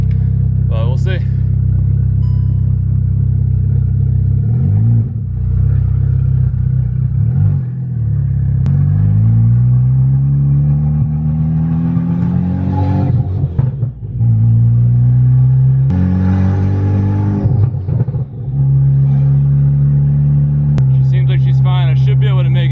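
A Volkswagen MK6 Golf R with a timing code fault drives along, its engine a loud low drone rising and falling through gear changes, with someone talking over it throughout.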